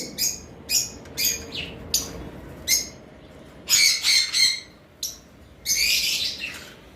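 Lovebirds in a cage giving shrill, rapid chirps and squawks in short bursts, some overlapping into louder chattering calls, close by over a faint background hum.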